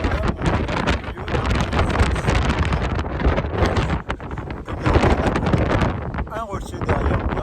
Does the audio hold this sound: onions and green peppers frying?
no